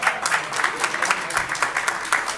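Audience applause at a UNCF event on historically Black colleges and universities, with only the women in the crowd clapping; steady, moderate clapping runs continuously under a mild room murmur.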